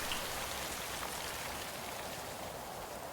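Steady rain falls across the Brazilian Pantanal wetland, a dense, even hiss of drops on surfaces that holds at constant loudness throughout with no voices.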